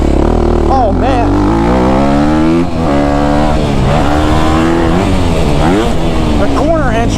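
A 2024 Honda CRF250R dirt bike engine revs loudly and continuously while being ridden, its pitch climbing and dropping with throttle changes, and a rider's voice is partly audible over it.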